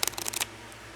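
Tarot cards are shuffled in a quick riffle of close, crisp clicks lasting under half a second, then quiet.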